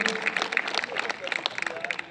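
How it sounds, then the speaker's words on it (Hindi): An audience at a Hindi comic poetry gathering (hasya kavi sammelan) breaks into brisk, dense applause, with many close, sharp hand claps packed together over a faint murmur of the crowd. "एक बार तालियां बजाकर आप अनुमति दे दीजिए।"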